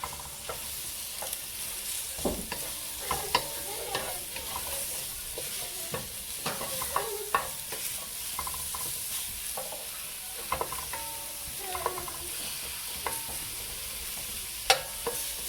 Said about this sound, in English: You want to just go ahead and saute, sweat your mushrooms out.